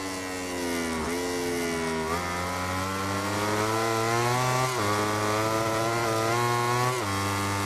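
Motorcycle engines roar in the MotoGP 17 racing game, with a Repsol Honda and a Suzuki battling at the Red Bull Ring. The high-revving whine is loud and continuous, dropping in pitch at each gear shift every second or two.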